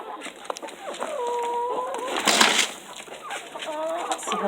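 Backyard chickens cluck and squawk nearby, a cluster of repeated throaty calls and drawn-out bawks with a brief louder flurry midway, while someone handles a feed bin in a winter coop.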